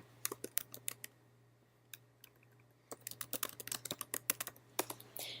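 Keyboard shortcut presses on a computer keyboard during photo editing: several quick clusters of crisp clicks, a short pause near the middle, then a denser run of keystrokes, close and fairly quiet over a low steady hum.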